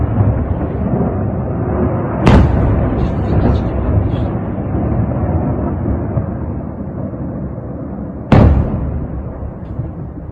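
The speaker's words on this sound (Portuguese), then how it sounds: "Isso aqui é o barulho dos mísseis chegando lá em Jankoy" Missiles striking Dzhankoy air base in Crimea: two sharp, heavy blasts about six seconds apart over a constant loud roar of rumbling noise, with faint distant crackles between them.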